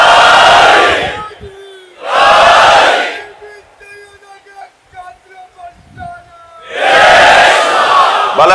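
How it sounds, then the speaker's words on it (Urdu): At a Muharram majlis, a large crowd answers a religious slogan with three loud, massed shouts, each lasting about a second. A single voice calls out in the quieter gaps between them. "دوبارہ نعرہ لگاؤ اور سب جواب دیں اس کا."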